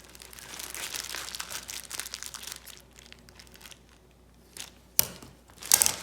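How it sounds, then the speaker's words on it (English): A plastic trash bag crinkles and rustles as it is handled while tape is applied, soft bursts of crumpling in the first few seconds, a quieter pause, then a couple of sharper crackles and tape noises near the end. "taping this edge down and overlapping that last end of tape."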